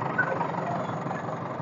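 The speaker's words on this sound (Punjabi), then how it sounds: "ਜਾਮਪਾਲਾ ਟਰੈਕਟਰ ਹੈ।" A Jampala tractor stuck in mud runs its engine in a low, even idle. The hum is fairly faint and steady and holds unbroken for a short stretch.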